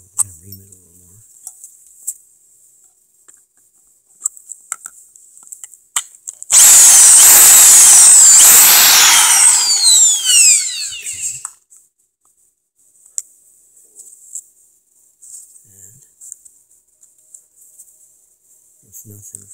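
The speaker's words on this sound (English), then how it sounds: "I'm going to ream it a little more." A power drill reams out a previously drilled bolt hole in one loud burst of about five seconds, whining close up, with quiet handling noises before and after.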